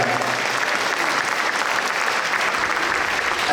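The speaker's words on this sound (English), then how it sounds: "We should all give a round of applause for that." A loud, dense round of applause fills a hall at the Chicago Andhra Association's 6th anniversary celebration, a continuous wash of many hands clapping with no pauses.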